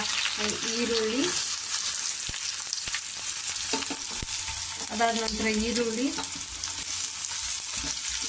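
Cumin and mustard seeds spluttering with chillies frying in hot oil, a continuous loud sizzle dotted with sharp crackles and pops, while a faint tonal voice or hum drifts in twice in the background.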